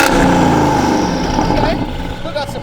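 A 700 hp V8-swapped BMW sounds through its exhaust with the mufflers activated and the cutouts closed: a loud, muted engine drone that swells and then eases off, with a voice briefly heard over it.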